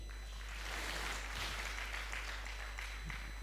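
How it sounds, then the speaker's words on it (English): An audience claps at a private schools proprietors' conference dinner, a steady, diffuse patter of many hands with a low hum underneath. "Okay, give another hand clap to me."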